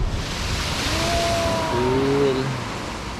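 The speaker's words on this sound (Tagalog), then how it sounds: "Grabe ang alon dito." Ocean surf rolling onto Sabang Beach in Baler, a steady broad wash of breaking waves heard up close, with faint tonal hums of a distant boat motor drifting through midway.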